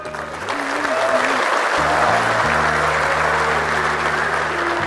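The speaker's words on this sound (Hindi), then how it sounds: "देख लो कितने सारे लोग की आवाजें आई है" A large audience of students in a motivational lecture hall responds loudly with a broad roar of voices and clapping-like noise, steady and filling the whole stretch, with a deep tonal hum running underneath.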